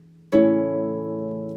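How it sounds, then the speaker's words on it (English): A single harp chord struck at once, several strings ringing together and slowly fading, close and resonant. "And we can play chords,"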